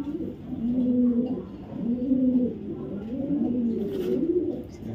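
Racer pigeons of a foreign bloodline coo in close, repeated throaty rolls, several birds overlapping in a steady rhythm with no one talking.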